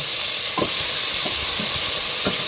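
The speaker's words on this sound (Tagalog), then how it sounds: "Lalagyan na natin yung ating sibuyas, kamatis, at saka luya." Onion, tomato and ginger hitting hot oil with browning garlic, a steady loud sizzle throughout with a few soft stirring scrapes, no voices.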